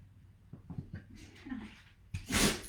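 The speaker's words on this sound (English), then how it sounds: "A little sneezing action." A single sharp sneeze bursts out loudly near the end of a quiet chair yoga session, preceded by soft breathing and faint sounds.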